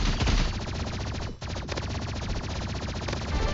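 Rapid bursts of energy pistol fire from Marvel Rivals, a dense continuous stream of loud shots with a brief break in the middle.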